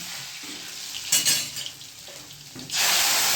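Asafoetida dropped into hot oil for a Gujarati tempering sizzles in a pan, a steady hiss that jumps in brief louder bursts and swells near the end, with no talk.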